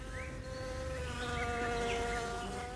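Wasps buzzing in a continuous drone with wavering pitch, close and steady throughout, several insects overlapping with no voices.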